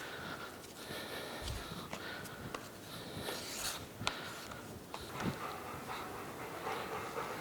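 A dog named Elliot pants quietly nearby in a machine shop, a soft rhythmic breathing mixed with light shuffling and scattered clicks in the room.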